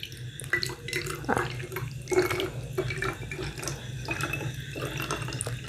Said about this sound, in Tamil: நம்ம வந்து இந்த மாதிரி குட்டி ஃபனலில் வச்சுட்டு நம்ம விட்டுக்கலாம். விடுவோம்.